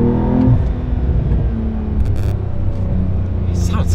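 A 2023 Porsche 992 Carrera T with a manual gearbox revving hard between 6,000 and 7,000 RPM, a loud close engine roar that sweeps up and then eases, with a voice talking over it.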